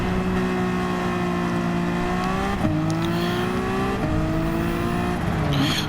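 Gr.4 race car engine in Gran Turismo held at high revs, loud and close, pitch dipping and climbing with each gear change and throttle lift, ending in a brief tire squeal.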